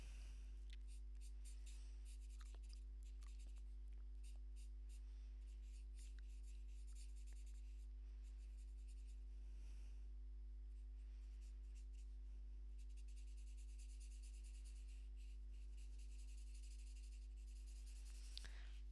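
Soft scratchy strokes of a Spectrum Noir alcohol marker colouring on paper, quiet and close, repeated short rubbing passes over a steady low electrical hum.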